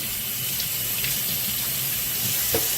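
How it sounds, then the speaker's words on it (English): Tap water runs steadily into a kitchen sink while a whole raw chicken is rinsed inside the cavity and outside, a continuous close hiss and splash with small surges and no talking. "And then we're just going to rinse the cavity. Rinse the outside."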